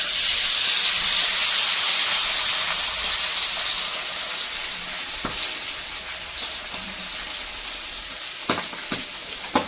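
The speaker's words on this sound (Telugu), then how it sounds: "ఇప్పుడు నేను ఇదే ప్యాన్ పైననే ఆయిల్ వేసేస్తున్నాను ఇప్పుడు ఈ చేపనైతే" Pakoo fish fries in hot oil in a pan with a steady, dense sizzle throughout, fading slightly over time, with a few sharp crackles and pops near the end and no talking.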